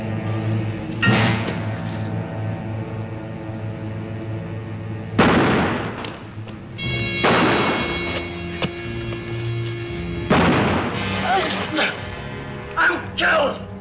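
Gunshots ring out in a 1957 Western film scene, a few sharp loud bursts spaced apart amid dramatic music and shouting voices.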